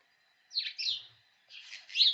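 House sparrows chirping and chattering in two clear bursts of bright, rapid calls separated by a brief pause, fairly close, with no other sound.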